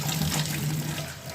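Prawns are rinsed under a running kitchen tap, a steady, close splash of water streaming into the sink throughout.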